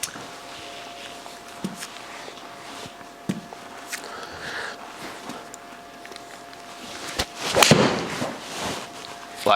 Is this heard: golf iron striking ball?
yes